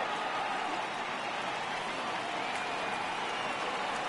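Steady broadband crowd roar swells in a baseball video game stadium, Braves at Cubs, as fans rise for a full 3-2 count, continuous and loud from start to finish with no distinct voices.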